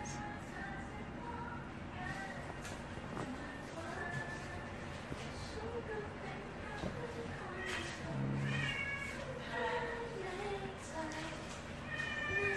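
Cat meows now and then at moderate distance in an indoor livestream setting, scattered over steady background noise and mixed with people talking.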